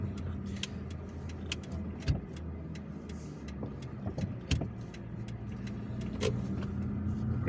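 A car drives through city streets in Algiers, its engine hum steady and close inside the cabin, with light clicks and knocks over the road noise.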